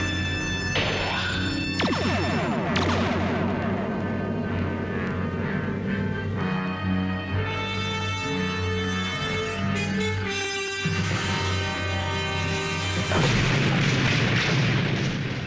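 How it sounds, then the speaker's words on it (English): Sci-fi photon torpedoes fire and their blast hits, heard as a dense, booming spread of shots and rumbling explosions with whining tones, loud and continuous, with no talking. "Photon torpedoes, wide as possible spread. At this range, the blast will impact us as well. Fire."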